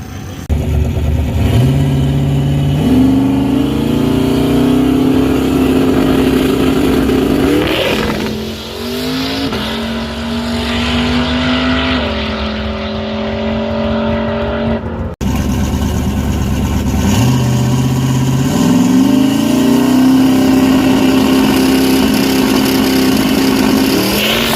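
A Ford Mustang's engine revs hard through repeated climbing pulls on a test run, loud and close, rising in pitch, dropping back briefly, then winding up again with no talking.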